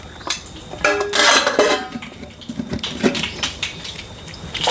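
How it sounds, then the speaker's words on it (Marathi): A metal spoon clinks and scrapes against a pan while turmeric is mixed in, with irregular clattering strikes and rattles close by, no talking. "मिक्स करूया चमच्याने आणि थोडीशी याच्यामध्ये हळद टाकूया आपण"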